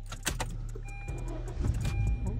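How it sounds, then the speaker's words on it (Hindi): A car engine idles low and steady nearby while keys jangle and mechanical clicks and thumps sound close at hand as the vehicle is readied to pull out. "चलो गाड़ी निकालते हैं हम"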